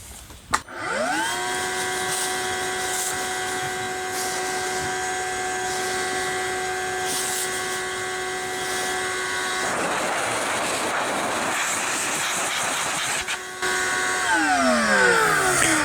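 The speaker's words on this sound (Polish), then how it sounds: "Jest oczywiście jeszcze funkcja dmuchawy" A Ryobi 18V cordless workshop vacuum in blower mode, on its second speed, whines up to speed and runs steadily, its pitch shifting as it pushes air across leaves before winding down.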